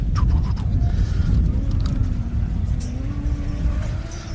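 A single-seater race car at the Gundy 500 passes on track with a buzzing engine note that rises and shifts in pitch as it goes by, over steady circuit rumble and background noise.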